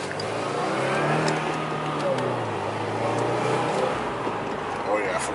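A car engine hums and revs through a neighborhood street, a steady close drone that rises and falls slightly in pitch, with voices talking over it.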